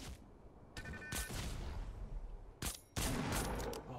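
Bursts of gunfire in Fortnite Battle Royale, loud clustered volleys with short gaps between them, heard alone without voices.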